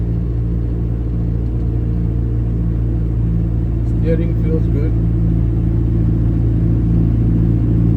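A Honda Civic with a K-series engine and a new turbo drives along, its steady low engine rumble droning continuously while someone talks over it.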